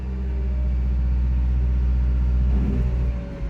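Heavy equipment engine held in neutral with the park brake on, throttle raised while the boom extends: a steady, loud low rumble and drone that swells slightly toward the end, with no talk.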